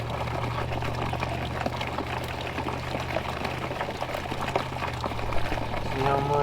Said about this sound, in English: That's a lot of water. That's a lot of water. I kind of want to let that flow.